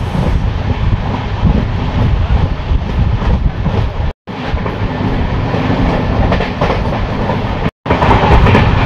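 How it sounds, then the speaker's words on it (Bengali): Kolkata-Sairang Express passenger train running at full speed near 110 km/h, a loud, steady roar of wheels and rattling coaches with rhythmic clatter, broken by two brief sharp cutouts. "কলকাতা সাইরাং এক্সপ্রেস কিন্তু ফাটিয়ে টানছে 110।"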